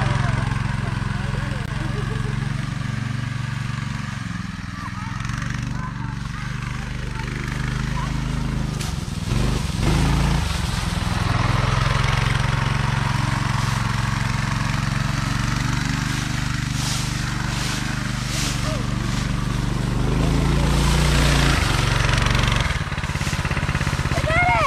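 The small engine of a Coleman KT196 go-kart drones steadily as kids ride it around outdoors, with its pitch rising and dipping as the throttle changes and muffled voices at times.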